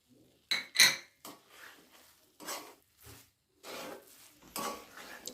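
A spoon scrapes and clinks against a pan as ghee and cardamom powder are stirred into a carrot barfi mixture, coming in separate bursts with short silent gaps between them.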